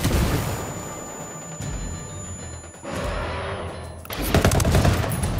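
Automatic gunfire in the Ghost Recon Wildlands shooter game rattles in dense bursts, loud and close, with heavier volleys toward the end.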